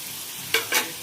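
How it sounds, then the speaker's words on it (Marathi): Tomatoes, onions and spices sautéing in oil, a soft background sizzle followed by two quick scraping stirs of a spoon in the pan, close and brief, without speech. "आता मी काय करते, टोमॅटो पण छान परतून घेते तेलामध्ये"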